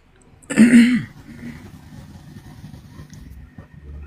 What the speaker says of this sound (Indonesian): Apa itu maksudnya batukmu?